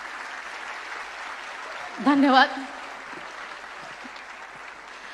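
An audience claps steadily at a stage event, a continuous wash of applause with a brief spoken word from a voice partway through.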